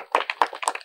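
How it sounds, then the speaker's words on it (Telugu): A handful of quick, sharp hand claps, irregular and close, at a journalist family's forest festival event in Rajahmundry. "క్లాప్స్ కొట్టండి"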